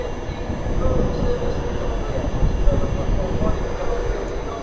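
A Virgin train pulls out of Wigan North Western toward Blackpool North, a steady loud rumble of wheels and engine rolling close by with a faint squeal along the rails.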